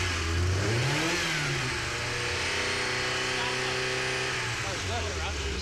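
Ferrari Mondial engine revving after a fault was fixed, a mid-pitched rise and fall of revs followed by a sustained, steady engine note, close and loud, with people talking over it.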